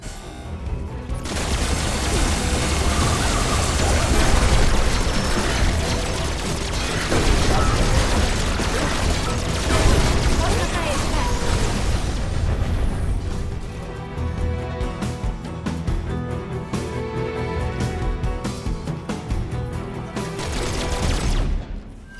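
Loud, sustained weapon fire in the video game ReCore, with a charged shot fired at a shielded enemy amid dense bursts, pops and mechanical clatter, continuing steadily for about twenty seconds before cutting off.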